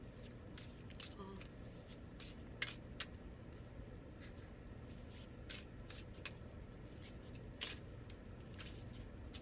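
Oracle cards are shuffled by hand in a quiet room, giving a string of soft, irregular riffling and slapping sounds that repeats across the whole stretch.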